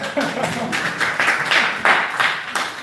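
An outreach audience claps for itself in a brief, loud, scattered round of applause that rises and falls in uneven waves.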